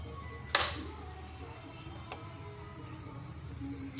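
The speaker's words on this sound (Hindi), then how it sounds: "ये टायर में से दोस्तों एक कट कट की साउंड आ रही है" Front wheel of a Honda Dream Yuga motorcycle with a worn front bearing gives one sharp click, then a fainter one about a second and a half later, over a low steady background hum.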